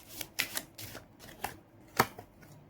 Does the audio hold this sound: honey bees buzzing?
no